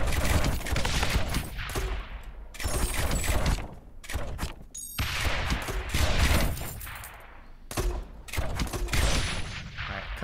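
Tower defense battle in the game Rogue Tower with a mortar tower firing: repeated loud bursts of rapid, crackling shots and impacts, several clustered volleys separated by brief quieter gaps, with no talk.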